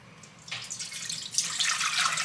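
Water is poured into a stainless steel pan, starting after a brief quiet moment as a bright, close splashing stream that grows louder and fuller as the pan fills.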